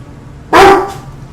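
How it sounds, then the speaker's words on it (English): A single loud, close dog bark in the video game Vampyr, one short sharp yelp over a quiet background hum. "Again, your dogs are barking at you."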